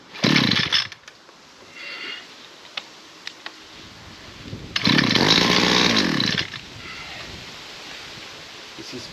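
A 2013 ECHO SRM-350ES brush cutter engine runs roughly, with a short loud burst, a stretch of sputtering ticks, then another rasping surge of a couple of seconds that dies back to a low idle.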